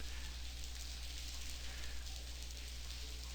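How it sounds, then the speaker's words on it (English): Rain falls in The Blackwell Convergence adventure game, a faint steady hiss of drops over a low hum with no talk. "So I think this rain animation is probably the right speed."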